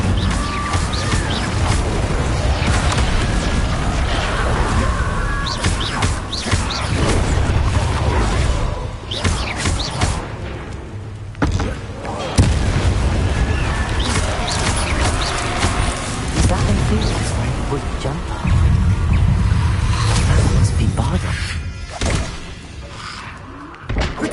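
Fire and explosion spells cast in Hogwarts Legacy, a dense, continuous run of loud crashing blasts and impacts with almost no pause. Shouted spell incantations are mixed into the din.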